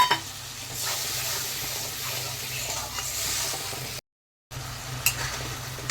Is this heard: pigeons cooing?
no